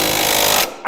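Impact wrench with an 11/16 socket hammering on a rear leaf spring bolt of a 2002 Chevy Tracker, a loud, close, rapid rattling burst that cuts off abruptly.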